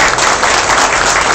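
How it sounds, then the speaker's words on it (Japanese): A loud burst of applause from an audience at a Swatch event in Japan, dense steady clapping with no voices over it. "どうぞ大きな拍手でお迎えください"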